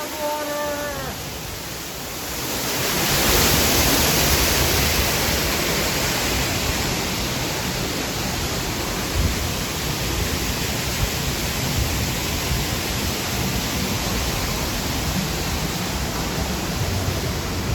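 A waterfall at Animal Kingdom pours in a loud, steady broadband rush that swells in after the first two seconds and then holds unbroken and close.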